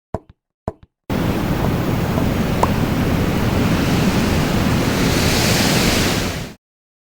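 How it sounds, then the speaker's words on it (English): A steady, loud rush of wind-like noise blows for several seconds after a few short knocks, then cuts off abruptly. "Gosh, I feel like I'm blowing in the wind."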